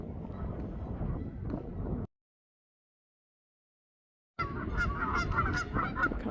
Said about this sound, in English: A couple of pelicans and geese on the water here.